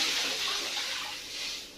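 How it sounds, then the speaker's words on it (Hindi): A litre of water poured into an iron karahi on the stove, a short, close rush of splashing water with no talk over it. "पहले 1 लीटर पानी डालेंगे।"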